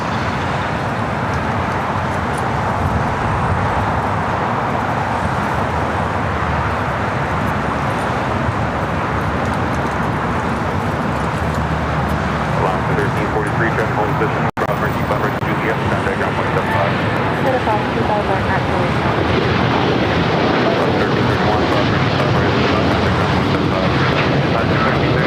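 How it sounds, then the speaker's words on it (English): A Japan Airlines Boeing 787 Dreamliner takes off down runway 25R at LAX, its engines a loud, sustained roar that holds steady throughout, with airport and traffic noise mixed in. "Japan Airlines Flight 61, Dreamliner heading to Tokyo Narita, now rolling down"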